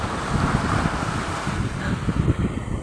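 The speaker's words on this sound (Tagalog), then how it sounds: "Sarap sa mata ng alon." Sea waves rolling in at the Dolomite Beach baywalk, a continuous rushing surf mixed with wind buffeting the microphone, fairly close and steady throughout, with no voices.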